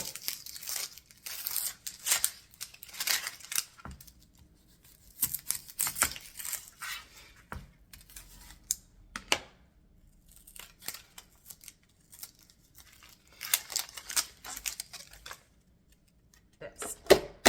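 A knife slices through fresh vegetables in a home kitchen in irregular bursts of crisp cutting and crunching, with quiet pauses between runs of strokes, close up.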